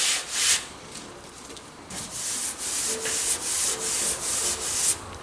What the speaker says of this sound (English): I just wanted to show y'all a little bit about water sanding.